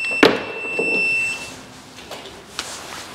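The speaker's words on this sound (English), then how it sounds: "It's beeping at us here" A few high electronic beeps from a Renogy 48V 3500W solar inverter charger running on battery after AC power is unplugged, thin steady tones fading within a second or two, followed by faint clicks and quiet handling.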